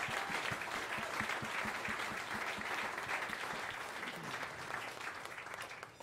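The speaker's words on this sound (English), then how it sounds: "Round of applause for APA." Steady, full audience applause at a jazz piano concert in a late-night premiere set, dense clapping holding evenly for several seconds with no voices.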